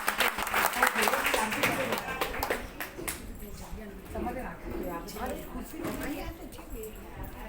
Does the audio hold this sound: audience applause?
yes